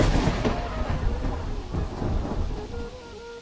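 Heavy rain pours steadily through a dark forest while thunder rumbles loud and near, with a booming roll early on and continuous downpour throughout, no voices.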